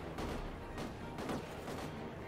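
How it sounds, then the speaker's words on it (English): Constant gunfire in a shooting fight in The Amazing Spider-Man 2 video game, a dense, unbroken rattle of shots and bursts that stays steady throughout. "the gunfire is just so constant"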